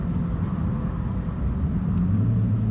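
Car engine downshifting, a loud steady low rumble with a rising drone near the end, close inside the car; no talk.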